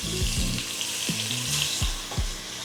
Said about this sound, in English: we're gonna go ahead and sear this chicken breast on each side